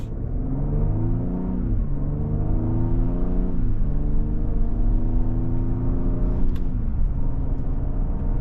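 A 2024 Lincoln Aviator Reserve pulls away on the road. The engine hum climbs smoothly through several gear changes, steady and close-miked from inside the cabin, with no voices.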